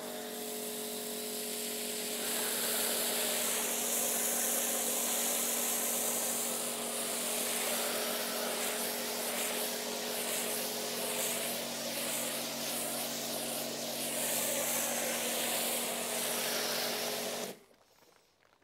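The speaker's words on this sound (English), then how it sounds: "It's got a very, very wide spray pattern going down to almost a beam of foam" Snow foam cannon spraying thick foam onto a car at full foam setting, a loud continuous hissing spray with a steady pump hum beneath that cuts off abruptly at the end.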